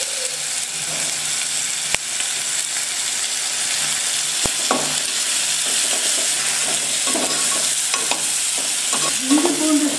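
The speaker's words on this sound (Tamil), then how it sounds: "இஞ்சி பூண்டு சேர்த்து எண்ணெய்க்கு கொஞ்சம் நல்லா வதங்கணும்." Ginger garlic paste being sautéed in oil with softened tomato and onion for a snail kola urundai kuzhambu: a loud, continuous sizzle broken by a few sharp spoon knocks and scraping strokes against the pan.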